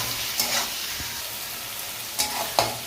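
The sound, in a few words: frying shrimp with onions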